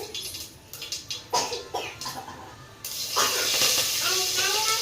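Curry leaves hit hot oil in a tempering, bringing a sudden loud hissing sizzle that holds steady to the end, after several short bursts of hissing and clattering; a voice is faintly present.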